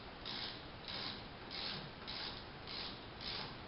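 A ratchet winds out a T50 Torx bolt set in medium-strength blue Loctite on a BMW R1200RTW motorcycle, giving a steady rasping ratchet sound in repeated even strokes, close and alone.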